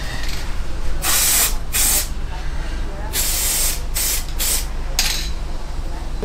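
Paint spray hissing in repeated bursts while a truck is being repainted: about nine loud, close blasts of varying length, separated by short pauses over a steady background hum.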